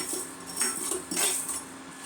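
Fenugreek seeds dry roasting in a pan without oil: soft, faint scraping and rattling as the seeds are stirred against the metal in a few slow sweeps, close by with no speech.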